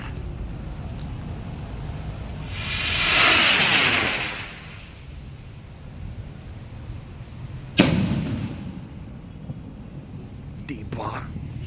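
A Blue Thunder stick rocket firework whooshes upward in a rising hiss lasting about two seconds, then bursts with a single sharp bang a few seconds later, heard outdoors at moderate distance against background noise.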